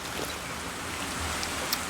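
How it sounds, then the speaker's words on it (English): Steady rain in the Betweenlands dimension of a Minecraft modpack, a continuous close hiss of falling drops with a low rumble beneath and a few brighter drop ticks, no talk over it. "So rain is really bad in the Betweenlands because it will flood the land."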